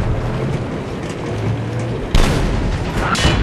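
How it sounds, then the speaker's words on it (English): A loud bomb explosion erupts in the video game Battlefield 3 during a tank battle in stormy weather, a sudden heavy boom cutting through a dense, rumbling battle din. "Bomb incoming!"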